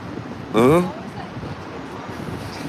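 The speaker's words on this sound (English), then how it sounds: "It's too windy." Wind buffets a phone microphone during an outdoor live stream in Philadelphia, a continuous rumbling roar; a brief voice sound cuts through partway.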